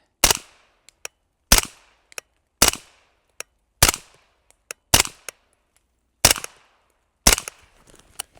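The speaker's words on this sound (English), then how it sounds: "next up we'll shoot it, see how it groups, and go from there" Springfield Kuna pistol-caliber carbine firing subsonic 9mm rounds, seven sharp shots at steady, spaced intervals, each followed by a brief ring and small clinks, with silence between.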